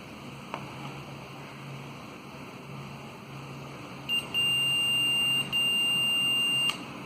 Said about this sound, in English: if you touch the two pins on these sides, these end, there will be a sound which shows that the multimeter is working